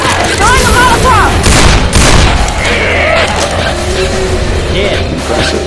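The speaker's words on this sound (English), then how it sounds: "Throwing the Molotov!" In Left 4 Dead 2, a Molotov cocktail is thrown and bursts with a loud whoosh and boom, among other game noises and in-game voices.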